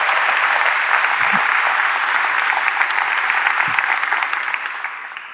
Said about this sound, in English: A giant round of applause